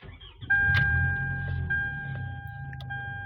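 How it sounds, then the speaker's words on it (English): A Toyota Camry engine cranks and catches, then settles into a steady low idle during a throttle body idle reset, with a thin electronic tone running alongside and a few faint clicks. "you will now start the vehicle"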